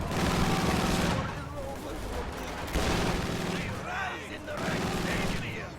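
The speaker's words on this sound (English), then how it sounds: "Fallschirmjäger being chased down by the M5 quad mount" M5 quad mount machine guns in Company of Heroes 2 chasing down Fallschirmjäger, sustained rattling bursts of gunfire with distant explosions, heard under a commentator's voice.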